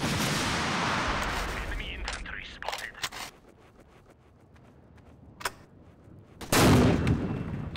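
Gunfire and explosions ring out in the Empires Source Mod game on the emp_duststorm map: a loud opening burst, scattered sharp shots, then a heavy blast near the end, with players talking throughout.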